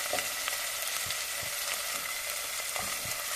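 Hot oil sizzles and crackles continuously as tempering spices fry on low flame, with a few soft knocks of stirring scattered through.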